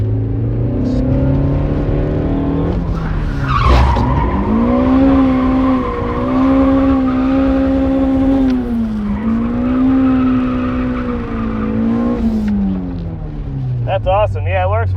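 A mid-engine car drifting, its engine droning in a high sustained tone that rises and dips with throttle while tyres hiss and skid beneath, loud and close throughout.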